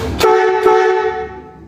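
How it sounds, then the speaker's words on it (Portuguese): Two blasts of a loud, deep Fonvon marine air horn fitted to a tricycle, the first short and the second held for about a second before fading, harsh and brassy. "E do lado de cá, a buzina Fonvon,"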